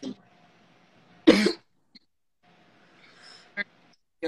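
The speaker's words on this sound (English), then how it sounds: "Sorry, you're coughing." A single sharp cough stands out, followed later by a shorter cough-like burst, with quiet background between.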